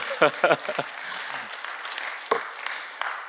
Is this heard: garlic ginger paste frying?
no